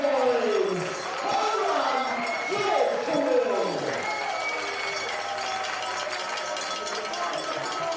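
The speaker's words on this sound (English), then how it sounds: "Listen to the crowd." Stadium crowd roaring and cheering steadily after a batter drives a long hit into left field at a Canberra baseball cup game, a broad sustained wash of noise with a commentator talking over it.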